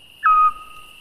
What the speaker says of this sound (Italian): questo invece è sempre un canto di assiolo